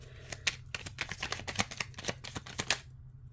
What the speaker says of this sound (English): I'm going to do a shuffle.